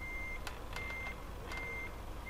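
A truck in Euro Truck Simulator 2 sounds its reversing alarm: steady, evenly spaced electronic beeps, three long tones at moderate volume over a constant low engine rumble, with faint clicks in between.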